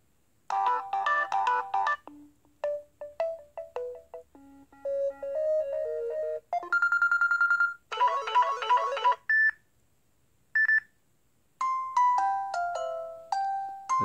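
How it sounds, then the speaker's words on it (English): Ringtones on a Samsung Express Prime Go Phone from AT&T play one after another: short melodic jingles, chimes and beeping patterns separated by brief pauses, clear and close with no talking. "It's a lot of ringing tones."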